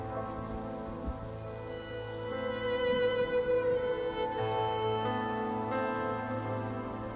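Steady rainfall sound effect used as background ambience for a tabletop role-playing campaign, a continuous patter of drops on a surface over a musical drone, with no voices.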